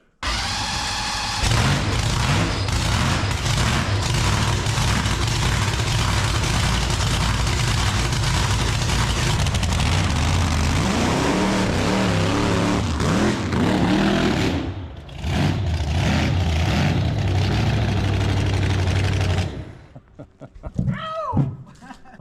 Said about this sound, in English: And so I told Michael, I said, man, your car sounds great.